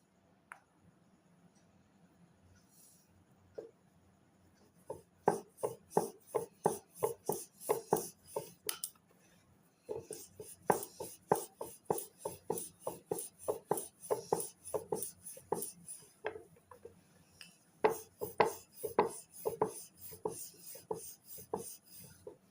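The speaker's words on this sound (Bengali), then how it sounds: "এই লেচিটা কর্নফ্লাওয়ারের সাহায্যে বেলে নেব" Rolling pin working a small ball of dough flat on a cornflour-dusted surface for crisp palm-fruit fritters, a quiet rhythmic series of close rubbing, rasping strokes in steady bursts with brief pauses, no talking.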